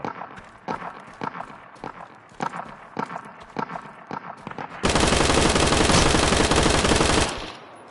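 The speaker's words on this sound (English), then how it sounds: "Oh, god damn, there's more people shooting?" Gunfire in the Deadside online game: spaced single shots crack repeatedly, then a loud continuous burst of rapid automatic fire roars for a few seconds before cutting off.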